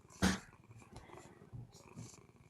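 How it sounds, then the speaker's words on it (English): A cat purrs softly and close up as a low, rhythmic rumble, broken by a brief sharp noise near the start and a few quiet shuffles. "Oh my God, I hear it purring."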